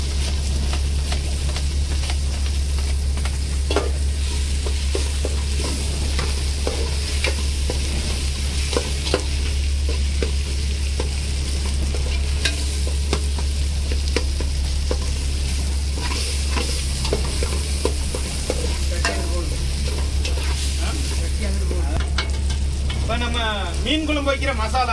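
Dried red chillies frying in hot oil in a pan while being stirred, a steady loud sizzle with scraping stir strokes, cooked outdoors by the sea in rain, with a low constant hum underneath.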